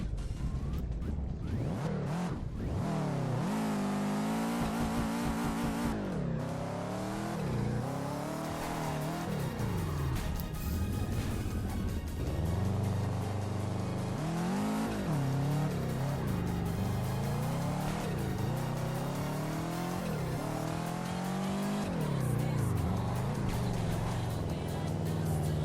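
Car engine revving and tyres squealing while drifting in the Touge Shakai VR racing game, a loud, continuous engine note rising and falling with repeated throttle swells across the run.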